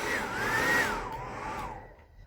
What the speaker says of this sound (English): that's my blow dryer.